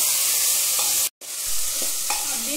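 Cubed potatoes and onions sauté in a pan as a steady, close sizzle, broken by a sharp cut-off about a second in, with a few soft clicks of stirring. No talking.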